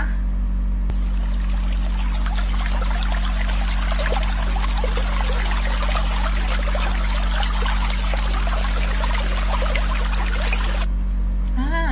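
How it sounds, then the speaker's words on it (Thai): Water flowing and pouring in a steady, continuous rush, loud and close, with a constant low hum beneath it; the flow starts and stops abruptly. "เสียงน้ำไหลนะคะ"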